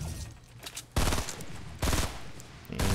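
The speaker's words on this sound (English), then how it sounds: "Alright, looks like I got a burst rifle." A burst rifle fires in a video game in three loud, rapid bursts roughly a second apart, each a tight cluster of shots, with quieter game noise between them.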